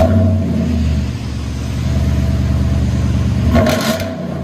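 A RAM 2500 Power Wagon with a 5.7L HEMI V8 and a Black Widow Venom Series dual exhaust holds a loud, steady rumbling idle. Near the end it gives one brief rev that rises and then falls back.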